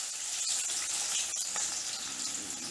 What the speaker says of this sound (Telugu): దొండకాయ ముక్కలు డీప్ ఫ్రై చేసుకున్నాం